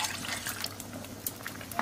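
Water is poured into a pan of warm rabri while making rasmalai, a faint, close splashing and trickling with small bubbling sounds throughout.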